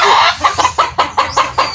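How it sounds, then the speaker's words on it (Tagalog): Backyard chickens cluck loudly and repeatedly in a rapid series of sharp bursts, with a rooster crowing among them, close by and with no talk. "Medyo nag-ingay yung mga manok natin po."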